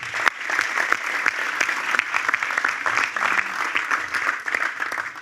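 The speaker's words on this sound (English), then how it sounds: "Yeah, round of applause." Crowd applause at a memorial event honoring October 7 survivors, brisk clapping from an audience with distinct sharp hand claps punctuating a steady, moderately loud wash.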